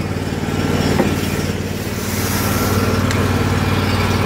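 A pressure washer trailer engine rated 8 gpm at 3500 psi drones steadily and loudly up close, a continuous buzzing run with no break.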